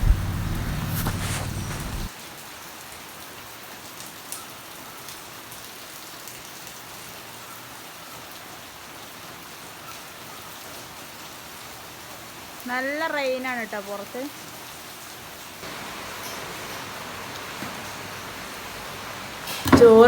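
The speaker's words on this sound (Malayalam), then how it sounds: "പുറത്ത് നല്ല മഴ" Heavy rain falling outside a home, a steady hiss of rain on surfaces running throughout at moderate level, with a brief chirping bird-like sound partway through and a few knocks at the start and end.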